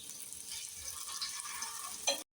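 Battered egg pieces fry in hot oil in a pan with a continuous crackling sizzle, and a brief louder burst near the end, as they are turned, just before the sound cuts off.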